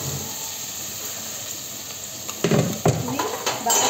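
Green chillies and onions hit hot oil in a pan with yogurt curry spices, giving a steady close sizzle that swells into louder bursts of frying and stirring toward the end.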